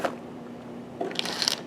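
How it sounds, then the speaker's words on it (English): Scissors snip through braided high-temperature automotive wire sleeving for engine management wiring, giving a few quick crisp crunching cuts near the end of a quiet stretch. "when you cut it off, you just simply use some scissors"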